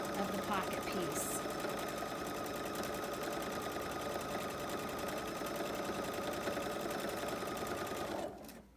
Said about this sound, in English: And then just sew the length of the pocket piece.